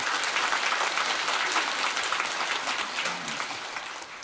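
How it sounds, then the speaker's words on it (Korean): A church congregation applauds in dense, even clapping that carries at full strength before easing slightly toward the end, with no voices over it. "우리 하나님께 감사와 영광의 박수를 올려드립니다."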